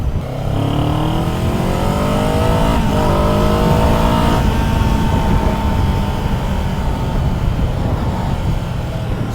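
A 2024 Kawasaki Z7 Hybrid motorcycle accelerating during a test ride, its motor note climbing steadily in pitch with a steady, loud, close drone that shifts briefly around the midpoint and keeps pulling without any talk.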